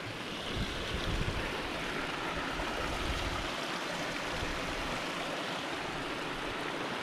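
Creek water rushing steadily over a rock ledge, a continuous broad splashing roar, close by with some wind buffeting.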